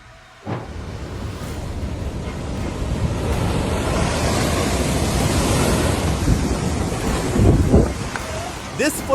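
A massive flood of water rushes through, roaring loud and steady for the whole stretch, with gusty surges and wind buffeting the microphone.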